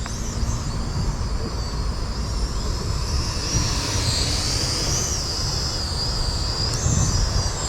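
A DEERC M10 beginner toy drone flies at its second speed setting outdoors, a steady high-pitched propeller whine holding throughout over low wind rumble, rising slightly in pitch midway.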